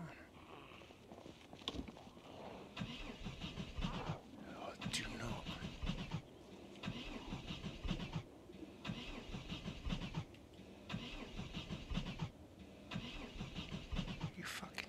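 A car engine in the zombie survival game Project Zomboid runs steadily and fairly loud throughout, with broadband rumble and brief start-up bursts, while a person talks over it.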